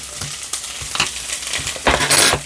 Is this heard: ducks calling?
no